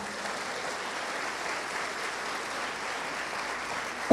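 A church congregation applauds during a Sunday morning service, steady sustained clapping from many hands filling the room at an even level throughout, without speech.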